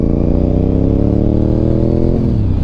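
A Honda RC51 sport motorcycle riding at speed along back roads, its engine droning loud and steady from close by, pitch shifting slightly near the end as the throttle changes.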